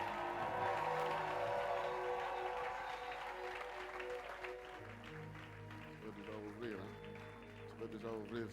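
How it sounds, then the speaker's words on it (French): Church congregation applauding and cheering to acclaim the Lord, a broad sustained crowd roar with music and voices mixed in, fading slightly toward the end. "Aidez-moi à acclamer très fort le Seigneur."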